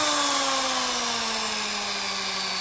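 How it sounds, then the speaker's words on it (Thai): An electric drill winds down, its motor whine sliding steadily lower in pitch over a couple of seconds, continuous and close, with no voices. "พอเราเบาสว่านนะครับผม"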